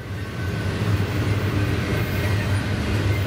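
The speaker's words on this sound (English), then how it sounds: "So we got this, an eastbound, an eastbound empty coal train for sure" An eastbound empty coal train rolls past at steady close range, a continuous low rumble and rail noise with faint clatter, no voices.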